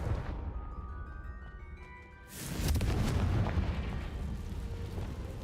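A Confringo blast in Hogwarts Legacy goes off partway through as a sudden roaring burst that follows a quieter spell shimmer and keeps rumbling to the end.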